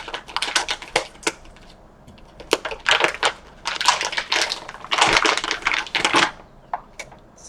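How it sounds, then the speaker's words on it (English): Scissors snip through the end of a thick plastic subcutaneous fluid bag in a quick series of sharp, crisp cuts and crinkles, close and fairly loud, with short pauses between bursts. "I'm just gonna cut the end off."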